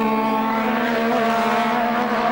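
Formula 1 cars at the 1986 British Grand Prix near Brands Hatch's Surtees bend, late in the race, giving a steady, loud, high-pitched engine scream with strong harmonic tones and no break.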